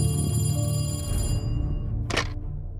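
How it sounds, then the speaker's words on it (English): A telephone bell rings in an audio drama, a brief burst of ringing over a low, steady musical bed, cut short after about two seconds. "It all started with a phone call from Candy's sister, Elizabeth."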